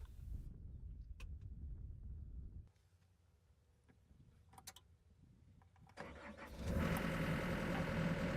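A John Deere compact excavator engine cranks and starts after quiet cab sounds and a few clicks, then settles into a loud steady run.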